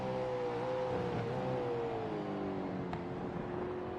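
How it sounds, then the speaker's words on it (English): A race car engine in the iRacing sim at Road Atlanta drones steadily, its pitch sliding as it works through the gears, with a continuous whine and no talk. "Through the gears, and you can see that engine just detonate."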